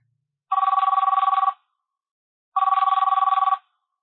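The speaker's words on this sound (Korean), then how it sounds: "전화 벨 소리에 눈을 떴다." A telephone bell rings in two loud, trilling bursts of about one second each, separated by a two-second silence, heard alone in a quiet room.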